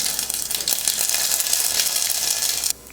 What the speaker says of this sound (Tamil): எண்ணெய் நல்லா காஞ்சிடுச்சு. கடுகு கொஞ்சம் சேர்த்துக்கிறேன்.